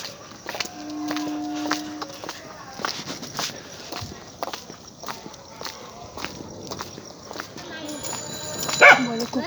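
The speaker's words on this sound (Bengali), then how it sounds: "কুকুরটা চিল্লাচ্ছে, নিশ্চয়ই কিছু দেখেছো, বুঝেছি।" A dog barks outdoors near a pond in scattered short, sharp bursts amid footsteps and faint rustling, with a louder yelp near the end.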